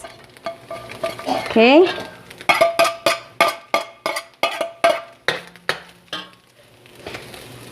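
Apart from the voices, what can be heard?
garlic, white onions and scallions frying in a pan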